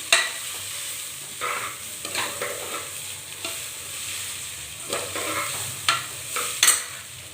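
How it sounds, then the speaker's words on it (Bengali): Raw rice stirred in a kadai (frying pan) with a ladle, giving a steady broadband hiss of gentle frying under repeated scraping and stirring strokes, with sharper clinks of utensil on metal at irregular intervals, close and moderately loud, no talking. "চালটা দিয়ে নাড়া হচ্ছে।"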